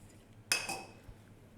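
Baked eggless vanilla cake in a metal pan flipped onto a wire rack, giving a single sharp metallic clank with a brief ringing tail, then a soft knock in a quiet kitchen.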